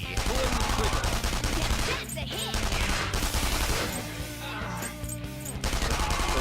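Rapid in-game gunfire from Yusuke's weapon in Persona 5 rattles on continuously over loud battle music, with brief dips in intensity between bursts.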